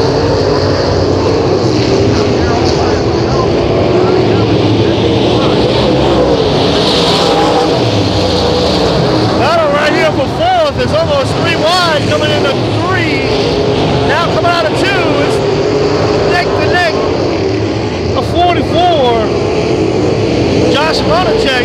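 Race cars circle Hattiesburg Speedway in a loud, continuous engine roar with rising and falling whines as cars pass, while an announcer talks over the racing throughout.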